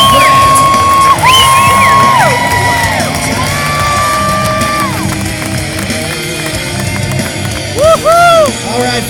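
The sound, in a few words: crowd cheering and whooping for BMX show riders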